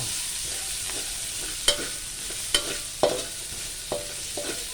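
Ginger roasts in a wok with just a little oil left at the bottom, a constant close sizzle punctuated by four or five crisp spatula scrapes at uneven intervals.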